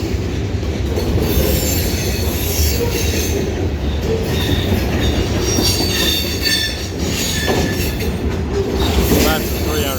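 A CSX mixed freight train of about 75 cars rolls past at Point of Rocks, Maryland. The loud, continuous rumble of wheels on rail is close by, with high metallic wheel squeal throughout.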